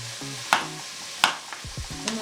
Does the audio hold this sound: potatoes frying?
yes